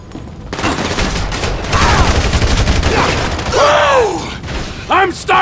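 Gunfire from Grand Theft Auto V rattles in dense, loud bursts of rapid shots with mechanical clacks, while excited voices shout over the shooting.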